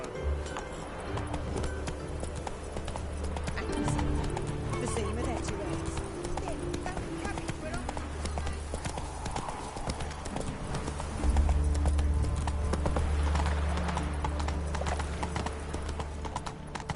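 Horse hooves clip-clopping steadily at a gallop in a video game, continuous and close throughout, with a voice and in-game sounds over the hoofbeats.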